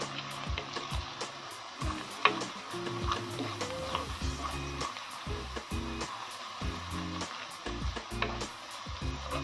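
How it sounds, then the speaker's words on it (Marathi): Cowpea pods sauté in a pan for a traditional Maharashtrian dry vegetable dish, a steady hissing sizzle with scattered light clinks and stirring scrapes throughout. "जरा छान परतून घ्यायचे 1 मिनिटापर्यंत"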